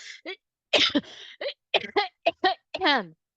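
A series of short, sharp coughs and throat-clearing bursts, close and fairly loud, with brief pauses between them.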